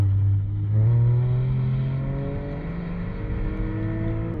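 A VW Polo TSI Stage 2 accelerates hard in a street race against a Palio Turbo, its engine loud and close, rising steadily in pitch as it pulls through a gear.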